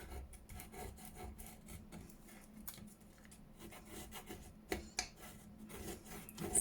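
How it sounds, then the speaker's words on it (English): Paper being burnished down by hand in a paper bag junk journal, a steady soft rubbing and rasping with a few sharper scuffs near the end, close and quiet with no talking. "You just burnish that down a bit"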